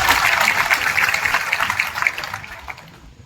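A crowd claps loudly at a public gathering addressed by MLA Gopichand Padalkar in Ambegaon taluka, a dense, steady burst of applause that thins out and fades after about two and a half seconds.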